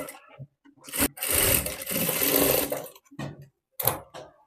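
Electric sewing machine stitching a folded blouse fabric edge, running in a steady whirring burst of about two seconds, with brief starts and stops before and after, close by.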